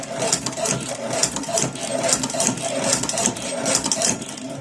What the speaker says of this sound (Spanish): ahí ensayemos cómo cose la maquinita